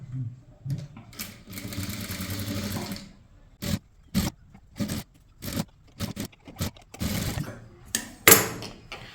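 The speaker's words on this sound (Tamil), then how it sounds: "இந்த பக்கமாக தையல் போடலாம்" A sewing machine stitches a chudithar top in short, close bursts of rapid mechanical clatter broken by pauses, with one longer run near the start.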